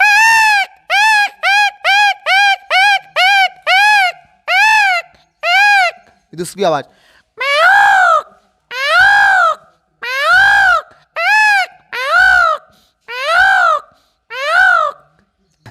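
A voice imitates a peacock's calls, giving a fast string of short, loud, nasal cries, then a pause and a slower run of longer, drawn-out wails, close and clear with no other sound.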